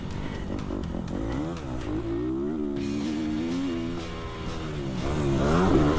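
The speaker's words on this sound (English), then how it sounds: "keep your ears open for some signs of Sean's struggles throughout this hot lap on the stock bike" A dirt bike on stock suspension runs a hot lap, its engine revving and shifting through rising and falling pitch, heard close as if onboard and continuous, swelling louder toward the end.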